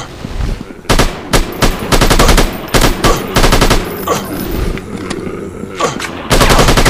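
Rapid bursts of automatic gunfire from the Counter Terrorist: Critical Strike mobile shooter game, loud repeated volleys with short pauses between them, layered over a dense game soundscape.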